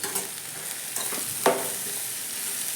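Dill curry sizzles steadily in a pan as salt, chili, turmeric and garam masala are stirred in, with a soft scrape of the spoon partway through and close, constant frying hiss without speech.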